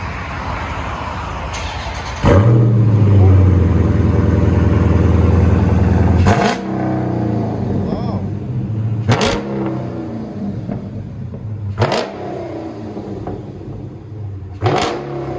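A Dodge Challenger Scat Pack 6.4L HEMI V8 with aftermarket mufflers roars up in a deep rev through the exhaust, then drops to a rumbling idle with sharp blips and pops.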